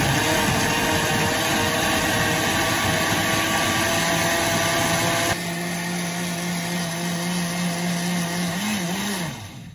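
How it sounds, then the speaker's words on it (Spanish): Loud, steady whirring roar of a blender grinding chilies for salsa, running continuously, with a dip in pitch about halfway as the load shifts, then winding down as it is switched off. "ahorita ya voy a ir a licuar los chiles"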